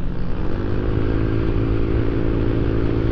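Motorcycle on a ride to Sitio Liwliwa, San Felipe, Zambales, its engine droning steadily and close with rumbling low harmonics and wind noise throughout.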